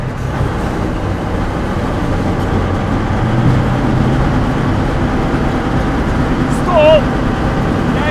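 A tank pulls away in gear, its heavy engine rumbling loud and steady with clanking drive noise, while people talk over it.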